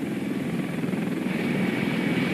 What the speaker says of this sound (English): The Navy also flew in 2 Black Hawk helicopters carrying several tons of emergency relief supplies.